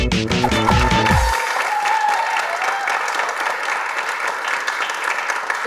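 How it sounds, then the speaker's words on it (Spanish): An audience bursts into applause at the close of a Spanish interview, a dense, sustained wash of clapping that carries on evenly after a brief opening of voices and music. "un aplauso, Eloisa."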